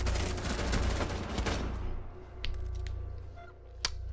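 Dense gunfire in a video game, a rapid fusillade of shots loud in the first half, then thinning to a few scattered bursts with a sharp crack near the end.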